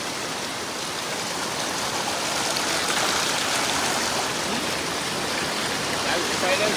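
A flooded stream in the Konkan countryside rushes past in a loud, unbroken roar of churning water, with faint talk mixed in.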